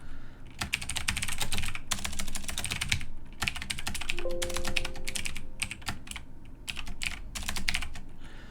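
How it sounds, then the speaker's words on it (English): Rapid keyboard typing on a computer keyboard, as code is entered, with dense bursts of keystrokes broken by short pauses, fairly close and steady throughout, with no speech. "I'll type the code and then explain what it's doing"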